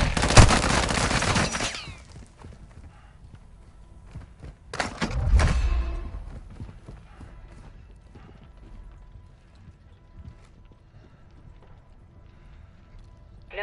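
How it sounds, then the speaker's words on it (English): Mortar strike explosions in a military shooter video game: a loud blast burst opens, a second heavy impact with rumble follows around five seconds, then quieter distant crackle and debris. "Mortar strike on the way."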